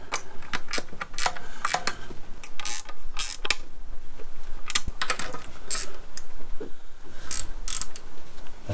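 Nuts being tightened on a Kamado Bono grill lid: close, sharp metallic ratchet clicks and clinks in irregular bursts, with brief scraping of tools on metal.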